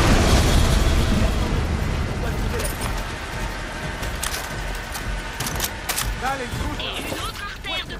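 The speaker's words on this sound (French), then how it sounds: "On reprend le lance-grenade et on tire dessus." Grenade launcher explosions in Far Cry 6 on PS5: heavy booming blasts and crackling bursts stack into a dense, continuous barrage, with someone talking over the din.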